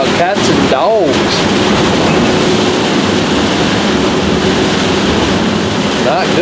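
Heavy rain and strong wind batter a camper, a dense, loud, constant roar of downpour on the roof and windshield with occasional gusts.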